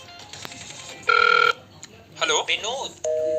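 A telephone rings during a call, short bursts of electronic ringing tone separated by gaps, with a brief muffled voice-like sound between rings, fairly loud and close.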